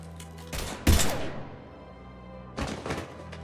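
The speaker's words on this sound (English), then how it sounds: "Now open fire!" Gunfire in Mass Effect 3 comes as a few heavy, punchy shots and thuds in quick bursts, a loud pair near the start and another pair later, with quieter rumble in between.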